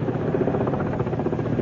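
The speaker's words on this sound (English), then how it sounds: "3 bloody choppers!" Three helicopters fly low overhead, a steady dense rotor thudding and engine whine filling the scene at close range without a break.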